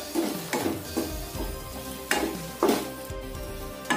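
Grated coconut being stirred into cooked leafy greens palya in a pan, several scraping stirs and soft clatters over a faint steady sizzle, close and fairly quiet.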